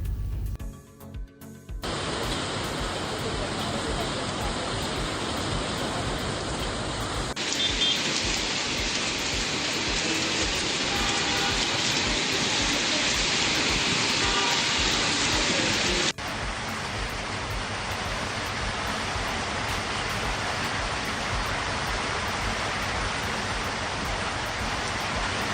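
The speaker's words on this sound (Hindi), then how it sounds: "जुमेरात की रात हैदराबाद के मशरक़ी जुनूबी इलाकों में बारिश हुई है।" Steady, dense rain falls in Hyderabad, a continuous close hiss of drops spanning several cuts with abrupt shifts in tone and no voices.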